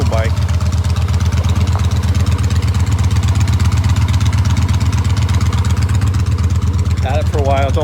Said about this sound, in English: It's a Yamaha Striker, which I've had for a while. V-twin 1304cc V-twin.